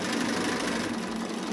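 A domestic sewing machine stitches fabric scraps along the presser foot edge, a close, steady whirring hum with a fast mechanical rattle running unbroken throughout.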